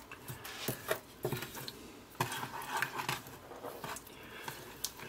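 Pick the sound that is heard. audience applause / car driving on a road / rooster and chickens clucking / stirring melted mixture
stirring melted mixture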